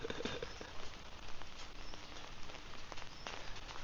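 Rain patters steadily on a rainy morning walk in Phuket, Thailand, a soft continuous hiss of drops with birds cooing faintly in the background.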